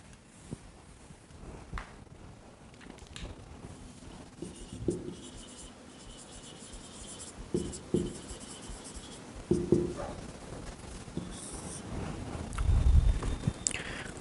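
Writing on a classroom board during a science lesson on average speed: intermittent scratchy strokes and taps come in short bursts, with a few louder knocks and scuffs near the end, fairly quiet and without talking.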